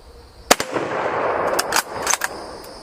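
Rifle shots with 7.62x54R rimmed rounds at a shooting range: several sharp, loud cracks spaced irregularly, one early, a pair near the middle and a closer pair near the end, each with a short echoing tail.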